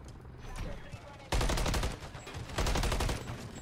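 Rapid automatic gunfire in Modern Warfare 3, loud and close, in two sustained bursts separated by a short lull, with quieter shots and game noise around them.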